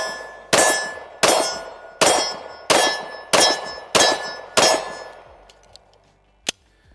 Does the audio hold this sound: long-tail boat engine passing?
no